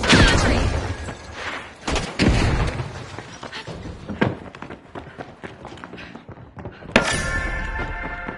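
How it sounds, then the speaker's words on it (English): Frag grenade blowing up in The Finals amid a chaotic fight: loud bursts and crashing debris, heavy thuds and scattered impacts, with a fresh blast near the end. "Frag grenade sent."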